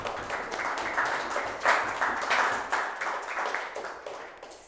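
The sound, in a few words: audience applause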